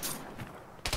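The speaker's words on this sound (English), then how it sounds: "Enemy fire!" Enemy gunfire in the video game Arma 3 crackles as a brief, dense burst of distant shots, fading and then returning with a sharper report near the end.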